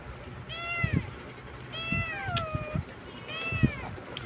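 Several hungry cats meow repeatedly near the recording device, with three distinct rounds of rising-and-falling meows, one after another, over soft background noise.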